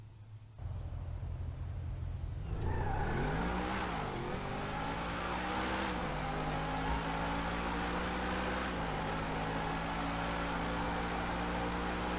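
Supercars racing in the video game GTA V, the Adder against the Entity, launch from a start and accelerate hard, engines revving loud and steady with rising pitch and gear shifts over a constant roar.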